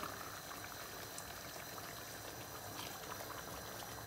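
A pot of spicy chicken stew bubbling at a boil, a steady, dense simmering hiss with soft popping, faint and continuous with no voices.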